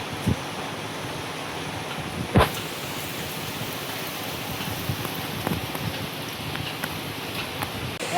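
Heavy rain falls steadily on a rural home in the Sundarbans, a dense, even hiss with a few sharper drips and knocks scattered through it and no voices.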